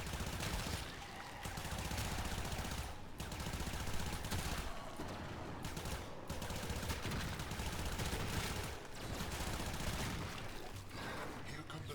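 Rapid, sustained gunfire from a player's weapon in Warframe, dense bursts of shots with brief pauses, fairly quiet overall, with a voice talking at times over the shooting.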